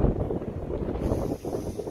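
Wind buffets the microphone outdoors near Kisumu airport, a constant loud low rumble with gusty fluctuations across two seconds, no speech over it.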